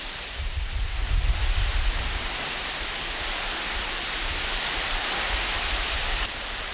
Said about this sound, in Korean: 약 100m 높이에서 쏟아지는 물줄기가 장관이다.